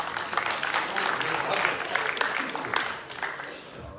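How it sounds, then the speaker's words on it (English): Audience applause at a Black history knowledge bowl quiz event, a short burst of crowd clapping that tapers off, with some talk mixed in. "Round of applause for Denzel."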